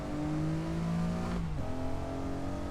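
An Acura NSX engine in Assetto Corsa revs steadily at Laguna Seca. The close, continuous drone dips briefly mid-clip and then rises again.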